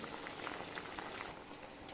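A pot of coconut curry bubbles at a rolling boil, a dense, continuous close burble with no talk.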